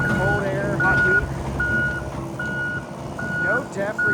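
A travel alarm on a John Deere 75G mini excavator beeps in a steady repeating pattern of mid-pitched tones over engine rumble, with someone talking nearby.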